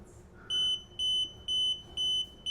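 An indoor CO2 air quality monitor sounding its alarm: four evenly spaced, shrill electronic beeps in a steady on-off rhythm, close and clear with no talk.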